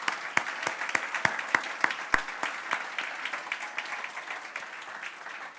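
A church audience applauds a guest speaker, starting with a few sharp individual claps that quickly merge into steady, moderately loud clapping, which then thins out and fades toward the end.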